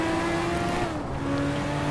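A car in a Hot Wheels racing video game accelerates with a loud, steady engine drone whose pitch holds and shifts slightly, heard alone and up close throughout.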